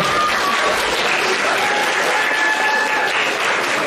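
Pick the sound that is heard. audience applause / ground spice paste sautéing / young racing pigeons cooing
audience applause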